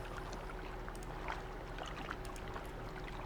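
Steady watery cove ambience from the Stronghold 3 map editor, with gentle lapping and soft trickles, a continuous low rumble underneath, calm and unbroken throughout.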